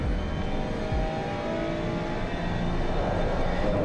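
Race car engine in the Assetto Corsa Competizione sim racing game, holding a steady loud drone throughout with small throttle variations and no talking.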